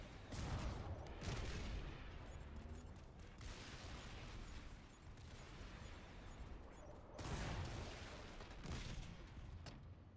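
Rocket launcher fire aimed at a turret in Halo: Combat Evolved, a dense stretch of muffled blasts and rumbling explosions running continuously at low volume, with heavier bursts near the start and again toward the end.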